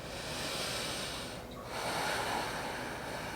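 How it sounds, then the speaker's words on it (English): A deep, audible breath during a yoga backbend practice: a long, steady airy inhale, a brief pause, then a full exhale, close and moderately loud, with no talking. "Big inhale and exhale here."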